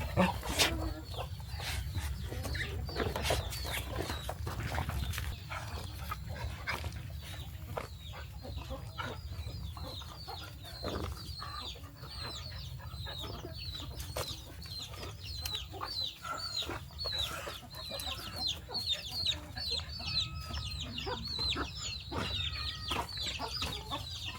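A flock of chickens on a mountain farm in northern Vietnam clucks continuously close by, a busy chatter of short calls mixed with occasional scuffs and thumps.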